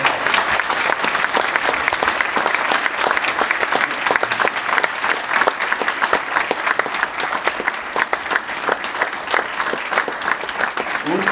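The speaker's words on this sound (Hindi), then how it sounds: "आप सब लोग खड़े होकर नरेंद्र जी की एक जोरदार तालियों से स्वागत करें" A standing audience at a prayer meeting held in tribute gives loud, sustained applause, thick and even clapping that carries on steadily with no talk over it.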